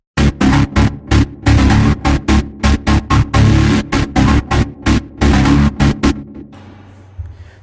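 Synth preset K8 Key Darkroom, a low saw layer with comb filters and a stepper, pulsing in rapid gated chopped bursts of buzzy, harmonic-rich tone before ending in a soft low tail, played alone.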